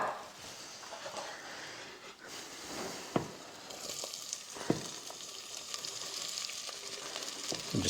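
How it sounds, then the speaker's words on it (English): Onions and other vegetables sizzle in oil in a pan for an Alaskan spicy stew, a steady close crackle broken by a few sharp clacks of a utensil against the pan. "saute the onions and the rest of the veggies. Put a little more oil in there."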